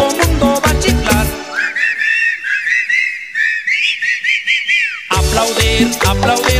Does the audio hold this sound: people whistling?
yes